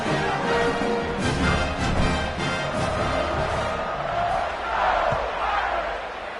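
A home crowd roars and cheers at a football game as the team piles up a first-half lead, a dense, sustained wash of voices with swelling peaks.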